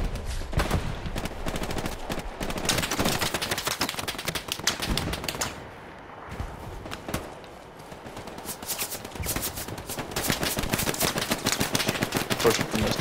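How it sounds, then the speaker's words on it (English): Machine gun fire in the video game Hell Let Loose, long rapid bursts of loud, close shots with a brief lull in the middle before the firing resumes, thick and relentless. "Oh shit, the MG got us."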